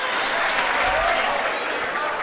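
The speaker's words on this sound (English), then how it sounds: "You hear the applaud from the crowd" A home high school basketball crowd applauds after a made shot and foul, with dense, sustained clapping and cheering filling the gym at steady loudness.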